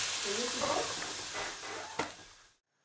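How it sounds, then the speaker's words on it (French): Water poured into a hot pan of veal blanquette hisses and sizzles steadily for about two and a half seconds, with one sharp tick near the end before it cuts to silence. "je viens mettre de l'eau pour recouvrir toute ma préparation, donc jusqu'au-dessus de la viande"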